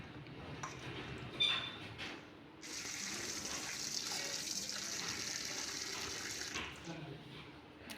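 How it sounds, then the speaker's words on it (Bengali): Tap water runs over raw chicken meat as it is washed by hand in a kitchen, giving a steady gushing splash with brief clatters, then a louder, brighter stream that stops near the end. "জল দিয়ে ধুয়ে নেব"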